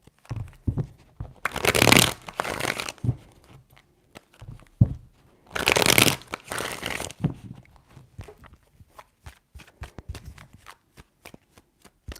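Tarot cards are shuffled in two loud, crisp riffling bursts, separated and followed by scattered light taps and handling noises.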